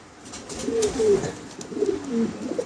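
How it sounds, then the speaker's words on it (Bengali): Modena and American Giant Modena fancy pigeons coo softly in low, rolling calls, two drawn-out phrases over a faint background hum, fairly close. "এখানে দুটা দু রকম কবুতর আছে"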